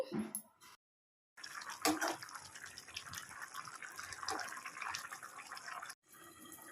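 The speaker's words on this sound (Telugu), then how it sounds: "కూర అయితే ఇలా ఉడుకుతుందండి" A pot of bitter gourd tamarind curry simmers with soft bubbling and liquid splashes, broken by brief silent gaps; no one talks.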